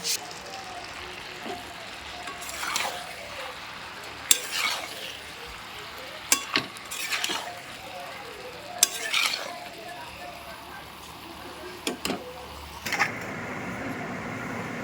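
A pan of pea-lentil fritter curry being stirred after sugar is added, with intermittent scraping and clinking strokes of a spoon against the pan over a low background, some strokes sharper and louder.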